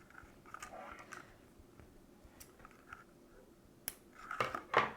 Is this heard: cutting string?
yes